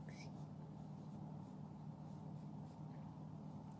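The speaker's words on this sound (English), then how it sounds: "Let's write Teacher Crystal's name here" Pen or pencil writing on paper makes a steady, close scratching that runs throughout, with a constant background hum and a faint voice at times.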